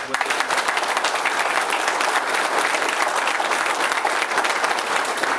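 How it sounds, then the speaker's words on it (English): An audience claps steadily at a Ford dealership grand re-opening, a dense, sustained round of applause lasting several seconds at even loudness. "let's give them another big round of applause"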